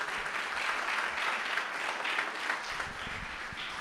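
An audience at the Diwali on Trafalgar Square 2025 launch event applauds, a steady, dense round of clapping sustained evenly for a few seconds.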